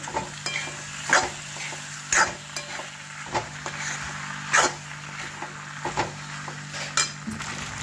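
Cooked pasta being stirred in a pan over a low sizzle, with a spoon scraping and knocking against the pan in irregular bursts a second or so apart, and no talking.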